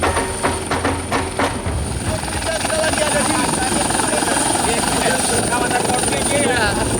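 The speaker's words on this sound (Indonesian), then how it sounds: "lagi naik motor ketemu helikopter" A helicopter passes near a motorbike rider in Donbas, Ukraine, its loud, steady rotor thump and turbine whine filling the air, with rhythmic chopping clearest at the start.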